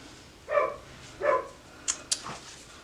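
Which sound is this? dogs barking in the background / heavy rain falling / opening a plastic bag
dogs barking in the background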